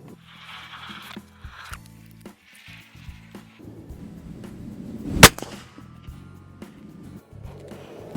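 A rifle fitted with a Vision King 4-12x40 scope at eight-power zoom fires a single sharp crack partway through, set against a quiet outdoor background with faint low rumbles before it.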